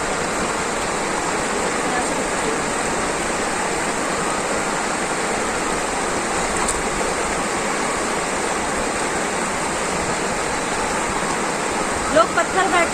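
A river rushes over small, smooth stones in a steady, broadband wash of flowing water, close and continuous, with a few faint knocks near the end.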